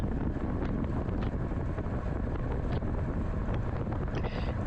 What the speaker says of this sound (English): Kind of a right to left wind right here on the backside